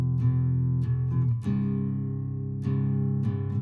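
A Stella Harmony acoustic guitar tuned to drop C plus 46 cents plays several loud strummed chords with a steady, rich low-string body, each strum ringing on until the next, with no voices.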